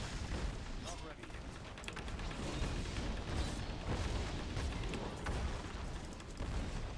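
Archon explosions from a hardcore Wizard in the video game Diablo 3: Reaper of Souls, a dense, continuous barrage of booming blasts and crackling impacts under game noise, with a voice talking faintly beneath.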